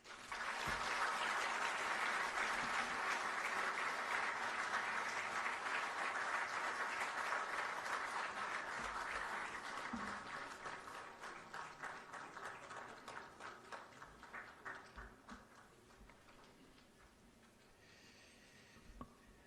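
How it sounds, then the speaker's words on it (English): An audience applauds at the swearing-in ceremony of Ghana's Chief Justice, with dense, steady clapping that gradually thins out and fades over several seconds, ending in a few scattered claps. "Another round of applause, please."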